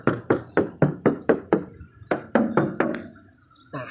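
Repeated knocks on the rubber-capped rear bumper of an Isuzu Buddy pickup, a quick run of seven evenly spaced raps followed by a pause, four more and a last single knock, close and fairly loud with no talk.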